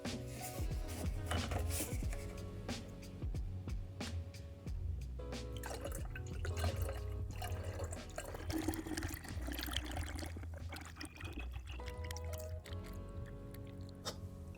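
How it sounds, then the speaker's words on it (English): Green coolant pours into the coolant tank of a Mercedes C-Class, a close, steady liquid trickle with dripping and gurgling that keeps running throughout. "If you want to pour more slowly,"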